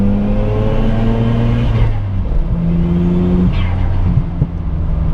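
A Mazda RX-7's two-rotor rotary engine heard from inside, its tone climbing and falling through several rev swells, loud and close, with faint talk underneath.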